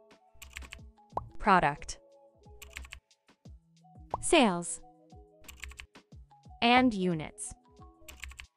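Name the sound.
typing on a computer keyboard in Excel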